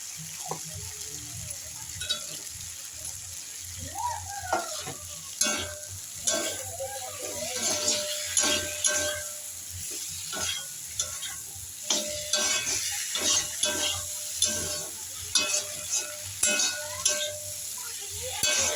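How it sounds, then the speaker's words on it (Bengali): Drumstick stems being stirred in a sizzling frying pan, with repeated scraping strokes against the pan over a constant frying hiss, close up and without talk. "একটু নাড়াচাড়া করে দিয়ে দিই সজনে ডাটা"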